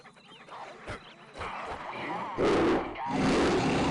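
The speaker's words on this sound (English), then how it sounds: "That's the sound of over 100 dogs attacking someone at once." Snarling, growling dogs in the game Postal 2, over 100 attacking at once in a chaotic, overlapping pack, rising louder toward the end, with no clear individual barks.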